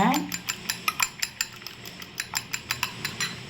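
A spoon stirs beaten eggs in a bowl for Chennai-style muttai kalakki, making a quick, regular run of bright clinks and taps that repeat about five times a second, close up and alone.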